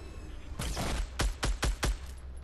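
Gunfire in the Fortnite Battle Royale video game: a short rattling burst, then four loud, evenly spaced shots in quick succession, with no talking.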